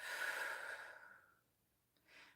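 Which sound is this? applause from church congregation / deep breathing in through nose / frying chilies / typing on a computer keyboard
deep breathing in through nose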